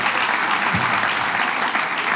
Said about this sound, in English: Give Ashley a big round of applause